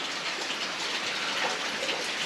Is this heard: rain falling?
yes